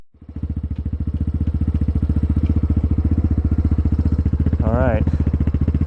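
A dirt bike engine warming up after a new carburetor is fitted, idling loud and close with a steady, fast pulsing rhythm, a brief rev near the end.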